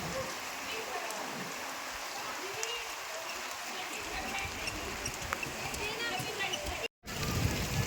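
Steady rain patters and hisses all around, with someone talking over it and a brief dropout near the end.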